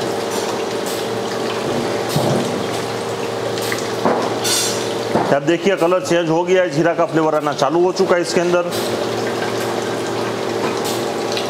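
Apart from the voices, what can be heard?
water filling in soda filling plant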